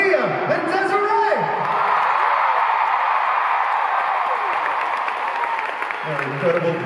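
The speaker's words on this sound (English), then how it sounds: "Let's do one last massive round of applause" Concert crowd at a show in Los Angeles, a dense roar of applause, whoops and cheering filling the arena, with a loud voice carrying over the noise.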